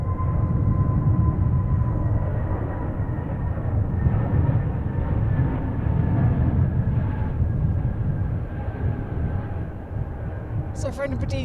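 Airliner at Manchester Airport, a rare visitor, produces a steady loud broadband roar with a low rumble throughout, holding level and easing slightly near the end as a brief clatter comes in.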